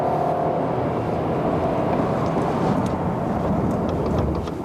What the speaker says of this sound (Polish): To może trochę mocniej zahamujemy.